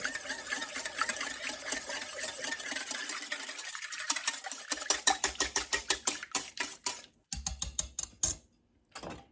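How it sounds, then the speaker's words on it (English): Mayonnaise ingredients whisked in a bowl produce fast rhythmic ticking clicks that become sharper and more distinct toward the end, close and fairly loud, with no talking. "I'm going to whisk it, just kind of get it all blended up"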